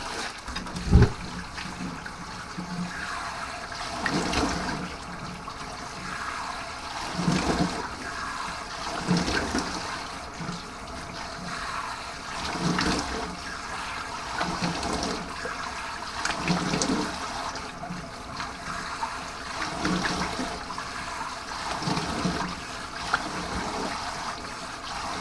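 Water pours and splashes in bursts while soap is rinsed off the body, an intermittent running and splattering flow at close range.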